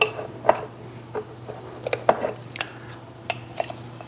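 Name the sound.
scooping ground coffee into a French press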